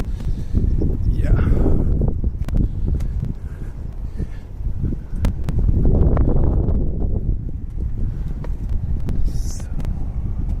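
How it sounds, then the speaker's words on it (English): Wind gusting on a street in Tokyo, a low rumbling buffet that swells and fades, with someone talking over it and faint street noise in the background. "it's a bit windy here as well"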